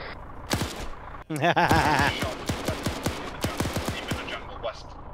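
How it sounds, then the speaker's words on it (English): Gunfire in a military shooter video game crackles in rapid, sharp shots and bursts, close and loud, with a voice briefly talking among the shots. "I'm still getting gunshots."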